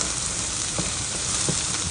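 Garlic sizzles and is stirred in a frying pan, a dense steady crackle with a few soft scraping strokes of a utensil, close and continuous.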